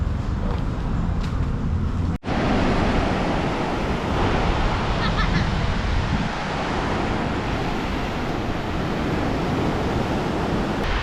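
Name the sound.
waves on a beach at Subic Bay, Philippines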